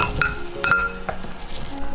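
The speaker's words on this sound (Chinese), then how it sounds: "把腐乳汁倒进来，再来放入5克冰糖，煮开了之后加入排骨" Pork ribs going into boiling fermented bean curd sauce with rock sugar, for Cantonese nam yu braised ribs: close, continuous bubbling and sizzling with stirring and a couple of sharp pot clinks, no talk.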